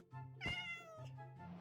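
A cat in the video game Minecraft gives a clear meow, then a softer drawn-out mew follows, close and with no talk over it.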